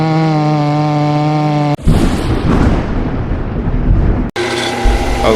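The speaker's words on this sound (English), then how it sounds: "I'm just going to be machining the diameter down to the exact size of the wrist pin needed" A lathe machines a steel piece down in diameter. A steady tonal motor whine gives way abruptly to loud, rough grinding and cutting noise, with two sudden brief breaks.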